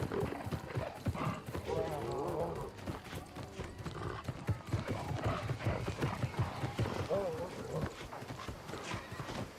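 A horse mount in the video game New World gallops with rapid rhythmic hoofbeats and whinnies. The sound runs steady throughout while a person talks over it.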